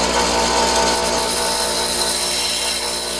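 A bench grinder shapes a broken lathe tool bit, a loud continuous grinding whine with steady abrasive rasp throughout.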